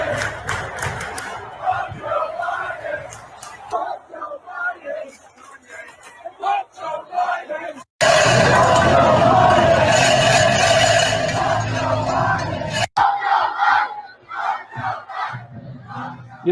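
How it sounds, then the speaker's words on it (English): A big crowd at a political rally chants in unison, rhythmic shouted phrases repeated over and over, swelling into a dense roar midway before breaking back into chanting, loud and close. "As you can hear the chants from the crowd."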